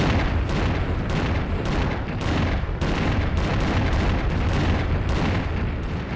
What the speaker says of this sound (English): we're gonna have to do an epic rocket duel with 2 cyber demons